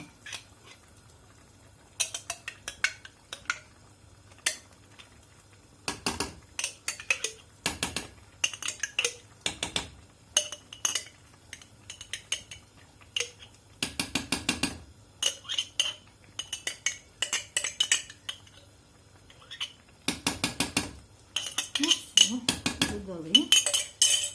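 Zucchini caviar with tomato paste and paprika gets stirred in a pot, a utensil clinking and scraping against the metal in irregular bursts of close, sharp knocks over a low steady hum.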